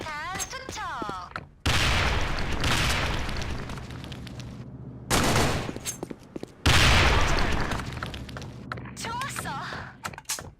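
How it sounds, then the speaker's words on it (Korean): A grenade thrown in a shooting video game, with loud booming blasts and bursts of gunfire arriving in heavy waves, preceded by short electronic game tones. "수류탄 투척."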